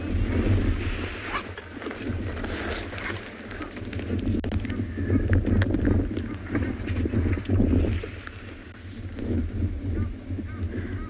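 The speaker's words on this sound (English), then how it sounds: "Not much activity, lots of wind." Wind gusts across Chitwa Dam in South Africa on a cold, grey afternoon, a steady low rumble buffeting the microphone for the whole stretch, with faint bird calls now and then in the distance.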